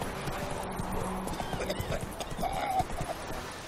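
Roach, a horse in The Witcher 3, gallops with rapid, steady hoofbeats, and a short whinny rises near the end over outdoor game ambience.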